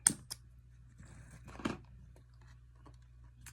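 Scissors snipping off excess string from a peyote-stitch kandi bead piece: a couple of quick, faint, close snips separated by short pauses in a quiet room.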